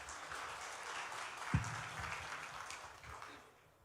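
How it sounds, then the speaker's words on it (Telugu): Faint, distant applause from an audience at an NRI meet-and-greet event, sustained at an even level and fading away at the end. "ప్లీజ్ అండి, గట్టిగా చప్పట్లు."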